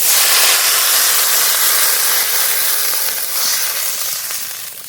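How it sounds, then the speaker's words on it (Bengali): Loud, steady hiss of water hitting a hot pan of well-fried potatoes seasoned with salt and turmeric, a broad sizzle and steam rush filling the whole stretch with no voices. "আলু খুব ভালো করে ভেজে নিয়েছি জল দিয়ে দেবো জল"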